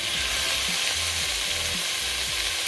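Chicken feet frying in a pan for adobo, a loud continuous sizzle and crackle with faint stirring scrapes, close and without talk.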